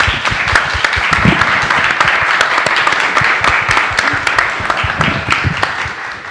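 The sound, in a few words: audience applause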